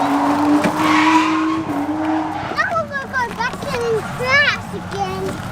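A drift car at a drift park, its engine droning and then revving with tire squeal as it slides, while children and adults talk and call out over the noise.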